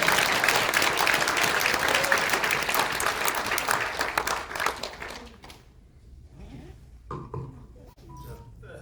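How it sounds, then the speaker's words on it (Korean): A crowd at a political rally event claps steadily for several seconds, loud and dense, then the applause fades out and leaves room noise, with a voice and a few stray sounds near the end. "박수 한번 보내주세요"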